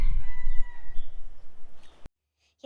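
A rooster crows loudly out in the countryside, a long drawn cock-a-doodle-doo that trails off. Quiet background follows, and it ends on a brief voice.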